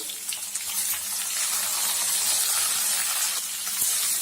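Onions hitting a hot pan for a paneer gravy: a steady, bright sizzle and hiss runs throughout, loud and close, with a faint clack near the end.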